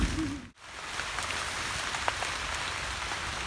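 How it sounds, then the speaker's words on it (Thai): Steady rain falls outdoors at a bamboo-rod fishing spot, a dense even hiss of drops on surfaces with a few louder individual drips, continuous and moderately close, with no talk over it. "ตอนนี้ฝนก็เริ่มตกแล้วนะคะ"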